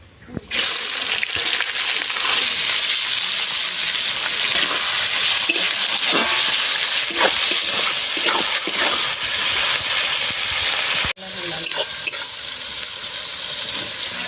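Onions sizzle loudly and steadily in hot oil with star anise and cumin for a duck curry, the frying continuous for the whole stretch apart from one brief dip near the end, with faint stirring scrapes throughout.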